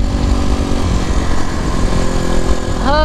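A Suzuki RM250 two-stroke motorcycle engine runs steadily while being ridden, a loud, continuous buzzing drone with harmonic whine. Near the end the pitch climbs briefly as the revs rise.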